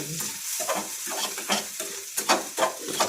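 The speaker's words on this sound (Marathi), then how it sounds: "नंतर लगेच कांदा लागायचा आवाज आला" Chopped onion fries in a pan with a steady sizzle, broken by loud bursts of scraping as it is stirred several times; no one speaks.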